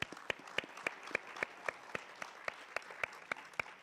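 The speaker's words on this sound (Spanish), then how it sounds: "Les ofrecemos un fuerte aplauso a nuestros invitados" An audience at a journalism school anniversary event claps for the invited guests in a thin, fairly quiet patter of separate claps, several hands clapping steadily for a few seconds.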